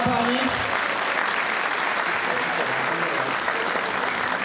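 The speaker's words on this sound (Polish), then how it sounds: "Ogromne brawa" Dense, sustained crowd applause at a campaign rally in Płock, a steady loud wash of clapping from many hands, with a voice faintly audible at the start.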